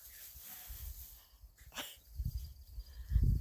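Dachshund puppies play on grass, giving soft snuffling breaths, a quick sneeze-like snort and scuffling near the microphone, with no talk.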